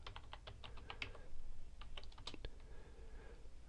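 Rapid keystrokes on a computer keyboard while a password is entered, a quick irregular run of close, crisp clicks over a steady low hum, pausing briefly before a few final taps.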